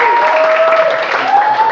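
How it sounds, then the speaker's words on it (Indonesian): A classroom full of students applauds a classmate during a geography lesson, a steady mid-level clapping that fills the whole moment, with a high tonal sound running through it. "Tepuk tangan Zaki."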